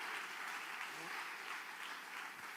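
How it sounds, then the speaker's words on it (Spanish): A church congregation breaks into sustained applause during a worship service, a dense, steady wash of many hands clapping together that carries on without a break. "Yo quiero que aplaude al Señor porque esto se va a poner mejor todavía."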